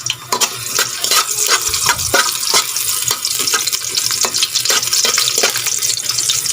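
Ginger sautéing in hot cooking oil for a home-cooked Filipino dish, giving a steady crackling sizzle with scraping stirring strokes throughout, fairly loud and close, with no talking.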